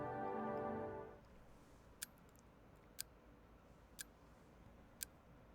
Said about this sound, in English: I hear nothing but the slow, steady tick of the clock.